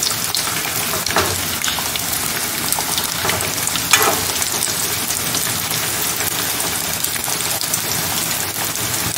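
Veg burger patties fry in a pan with a loud, dense sizzle that rises and falls like rain, a few clinks and stirring scrapes on top, no one speaking.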